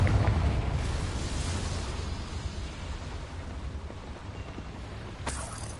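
The Confringo spell explodes in Hogwarts Legacy inside a small mine, a loud broad blast that decays into a long rumbling roar, followed near the end by a sharper burst.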